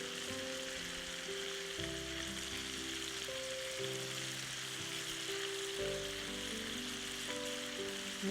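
Tomatoes frying in a pan with other ingredients, a soft, steady sizzle running evenly throughout, with faint background music and no talk.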